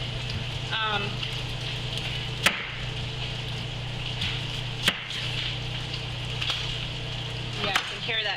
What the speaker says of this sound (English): hear that bacon now. It's popping.